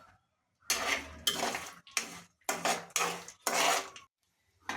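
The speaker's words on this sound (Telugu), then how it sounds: "ఇప్పుడు అందులోకి పల్లీలు వేసుకోవాలి పల్లీలు కూడా వేయించుకోవాలి" Peanuts fry in sesame oil in a pan, giving about six separate bursts of rattling, scraping clatter as they are stirred, with short silent gaps between bursts.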